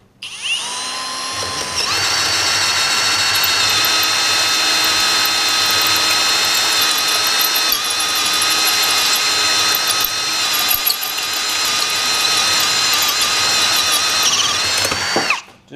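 A powerful drill bores a large hole into stainless steel with a loud, sustained whine and grinding tone that starts after a brief pause and cuts off abruptly.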